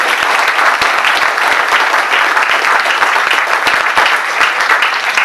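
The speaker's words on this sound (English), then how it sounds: "Give yourselves a round of applause." An audience at a company's 60th anniversary celebration bursts into dense, loud applause, many hands clapping together in a sustained roar for the full stretch.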